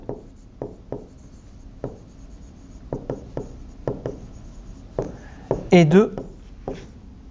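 Handwriting on a board or paper during a math lesson, a series of short scratchy strokes and taps spaced irregularly, with a brief spoken phrase near the end.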